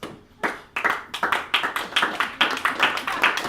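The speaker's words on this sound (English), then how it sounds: "let's just give them a round of applause" A stand-up comedy audience gives a round of applause in a small concert-house setting. The claps come as close, uneven bursts that build after a brief quiet start and hold steady at a lively level.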